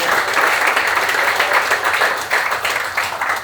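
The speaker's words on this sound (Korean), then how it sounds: "박수 한번 더 쳐드리세요." An audience at a football club event applauds in a dense, sustained burst of clapping from many hands that rises and falls slightly over a few seconds.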